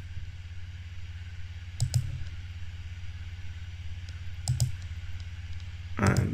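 Sharp computer mouse clicks come in a few separated pairs while a freeform shape is drawn in PowerPoint, crisp and close over a low steady background hum.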